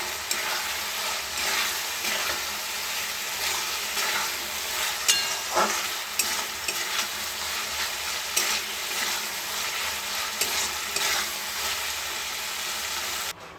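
Cauliflower frying and sizzling in a pan while being stirred, a steady hiss with scraping stir strokes and occasional clinks, close and continuous with no talking.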